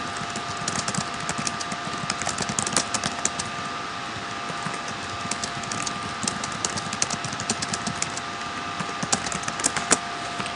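Typing on a computer keyboard, a rapid irregular run of light key clicks at moderate loudness, continuing steadily for about ten seconds over a constant background hum.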